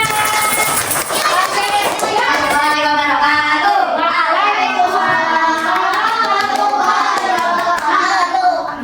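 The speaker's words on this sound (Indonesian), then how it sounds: "tepuk tangan" A group in a teacher-training classroom session claps hands in a brief, quick patter at the start, then voices rise in a loud, sing-song group chant that carries on over the remaining seconds.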